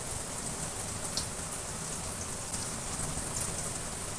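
Chillies sizzling in oil while fish fries for a bhuna, a soft, even crackling hiss that continues without pause and stays fairly quiet and close.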